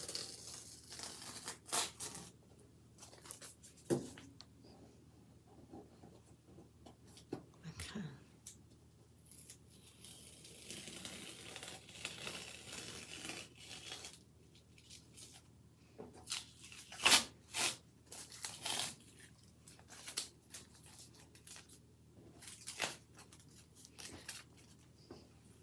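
Masking tape being peeled off a finished watercolour and ink flower painting, with soft intermittent tearing and crinkling strips, quiet and close, separated by pauses and handling noise.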